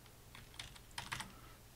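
Password being typed on a computer keyboard: a short burst of about six to eight light, close key clicks in uneven rhythm, quiet and alone with no talk.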